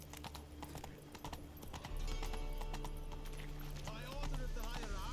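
Geralt's horse Roach trotting in The Witcher 3, rhythmic hoof clip-clop close by with a neigh near the end, under someone talking and game voices.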